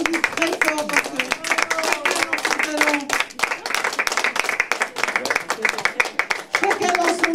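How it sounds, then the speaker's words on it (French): An audience at a French variety show claps loudly for the performers, with dense sustained applause running throughout while voices talk and call over it. "On les applaudit très fort"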